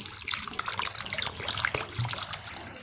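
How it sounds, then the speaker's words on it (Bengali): Water is poured into a bowl of palm jaggery to soak it, making a close, continuous splashing trickle with small bubbly fluctuations. "এখন এটা আমি পরিমাণ মতো জল দিয়ে ভিজিয়ে রাখবো প্রায় 1 ঘন্টা মতন"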